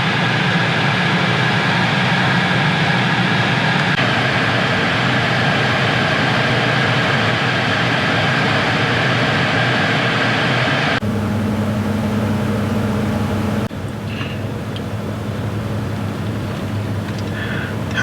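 A 2010 BMW F10 528i idles with a steady low engine drone heard from inside the cabin, continuous and even, with a slight change in tone partway through.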